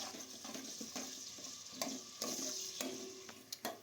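Onions and chillies are stirred in a hot pan for Telangana-style chicken curry, a soft sizzle broken by repeated sharp spoon scrapes and clacks against the pan, fairly quiet and close, with no talking.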